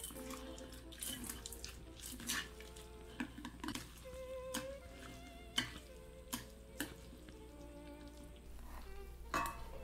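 Baehongdong jjoljjol dried noodles being tossed and mixed in sauce with crispy fried topping, giving close, wet squelching and stirring sounds with irregular clicks and scrapes over a faint low hum.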